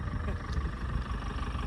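An old scrap tractor engine idles nearby with a steady, low, rough throb, while people talk over it.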